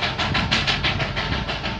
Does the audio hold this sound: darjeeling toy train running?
yes